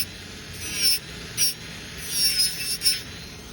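A nail file rasps across a gel nail to take off excess product, producing short, bright scraping strokes in uneven bursts, close and dry, with no voice.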